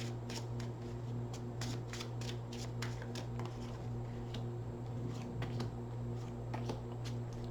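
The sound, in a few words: tarot cards being shuffled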